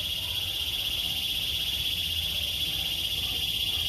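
Dense, continuous chirping of crickets fills the scene, a steady high trill with a low rumble of background noise beneath it.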